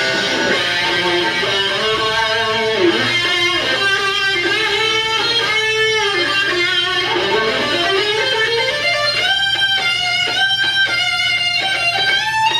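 Isolated electric guitar solo, a loud, sustained lead tone with bending, gliding notes and fast runs, playing alone with no voices.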